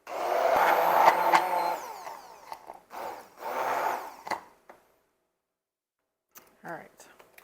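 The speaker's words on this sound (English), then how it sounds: "And then we're going to use the immersion blender." An immersion blender whips peanut butter pie filling in a loud, close motor burst at the start, then short intermittent bursts mixed with quiet talking before fading to near silence.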